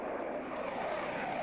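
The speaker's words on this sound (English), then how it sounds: "This is the Tornado F3, the fighter version of the main strike weapon of the Royal Air Force" A Panavia Tornado F3 fighter jet at an RAF airshow makes a brief, steady roar, moderately loud and unbroken, with no voices over it.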